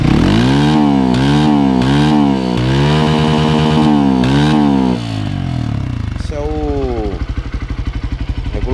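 A motorcycle fitted with a cheap, ugly aftermarket exhaust revs up and down in repeated pulls near the microphone, then settles into a lumpier, uneven idle with sputtering blips.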